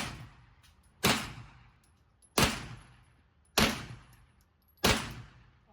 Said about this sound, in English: Just finishing up in the gun range